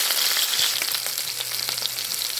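A pot roast sears in a hot pan for birria, giving a steady, close sizzle and crackle of frying meat with a few soft pops and no voices.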